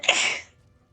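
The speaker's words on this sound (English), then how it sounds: "I'm gonna sneeze." A single sneeze from a player during a Skyrim gaming session, one sharp bright burst lasting under half a second and then quiet, close to the microphone.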